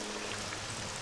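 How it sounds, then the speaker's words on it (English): Steady, dense hiss of rain falling across the landscape in the video game The Elder Scrolls III: Morrowind, an even wash of patter with no voices, lasting about a second. "It is raining, and we are slowly moving our way around the continent"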